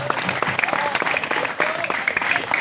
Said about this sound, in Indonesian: Nah ini baru benar nih, tepuk tangannya baru benar, cuma satu kali aja.